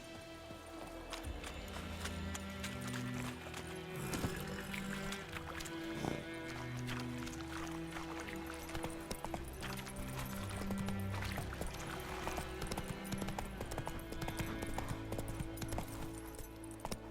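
Roach the horse galloping in The Witcher 3: Wild Hunt, with steady rapid clip-clop hoofbeats throughout, mixed under continuous game music and ambience.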